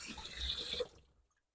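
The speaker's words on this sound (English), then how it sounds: "we've got the kitchen sink going, and we're at 96 degrees, lukewarm." Kitchen sink faucet running lukewarm water into the basin, a steady hissing splash that cuts off abruptly after under a second, leaving silence.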